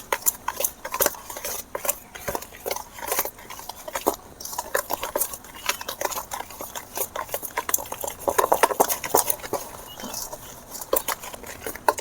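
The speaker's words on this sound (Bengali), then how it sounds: "এবারে আমি ভালো করে 10 মিনিট ধরে ফেটে নেব" Eggs and powdered sugar for cake batter are beaten briskly by hand, a steady stream of fast clicking and tapping against the bowl that runs on without pause, close and fairly loud, with no voice over it.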